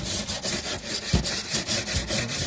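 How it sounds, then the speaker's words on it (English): A wire brush scrubs rust and paint off metal on a camper restoration, a loud, close, rhythmic rasping back-and-forth scrape repeated steadily with no talk. "we're going downtown on that with the wire brush first. Get all that rust off there."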